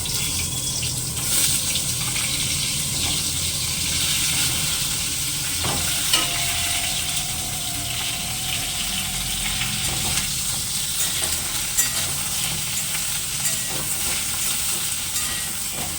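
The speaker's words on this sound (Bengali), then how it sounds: "এই তেলেই ফুলকপিটা ভেজে নিব" Cauliflower sizzles steadily in hot reused oil, a continuous crackling hiss with occasional clinks and scrapes of stirring, no voices.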